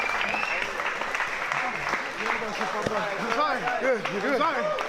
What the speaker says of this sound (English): And you hear the crowd now.